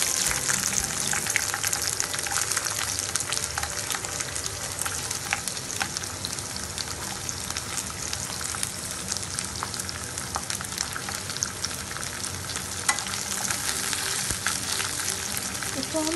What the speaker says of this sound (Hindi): इसको हम स्लाइटली सॉटे करेंगे, हमको ज़्यादा नहीं करना है, इसे हल्का हल्का सॉटे कर लेना।